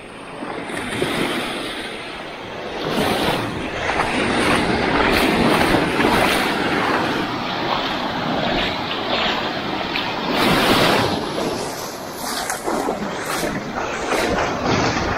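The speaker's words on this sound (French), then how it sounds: "Il y a des vagues aujourd'hui." Sea waves break on the shore at Koh Lanta island, a loud continuous wash of surf with repeated swelling crashes, close by, with some wind buffeting the microphone.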